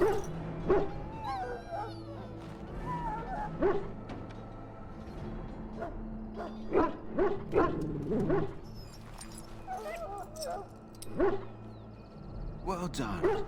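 A sick hound in Dragon Age: Origins that has swallowed Darkspawn blood whimpers, yips and gives short barks in scattered bursts, with people talking over it.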